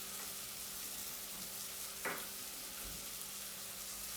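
Spices and garlic fry in a pan for pumpkin soup, giving a steady, soft sizzle with a brief clink of stirring partway through.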